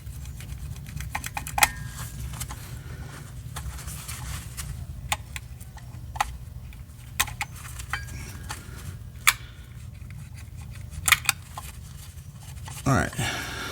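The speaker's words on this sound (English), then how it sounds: "I'm going to try and just trim it up just a little bit, make it more uniform all the way around." Excess material around an Audi C7 JXB Performance driveshaft carrier is trimmed by hand, giving sparse, sharp snips and clicks at irregular intervals over a low, steady background hum.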